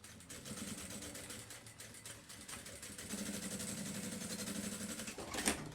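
A sewing machine stitching a personalized Bible cover, running in a steady, continuous mechanical whir close by, slightly faster toward the end, with a brief clack at the finish.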